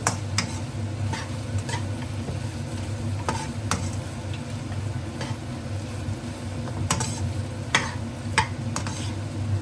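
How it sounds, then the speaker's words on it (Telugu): Chicken fry with chicken masala stirred in a pan, a spoon scraping and clicking against the metal in irregular strokes over a steady, close sizzle. "ఒక స్పూను చికెన్ మసాలా బాగా మిక్స్ చేసుకొని"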